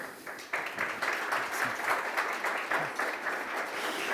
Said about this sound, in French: je vous remercie pour vos applaudissements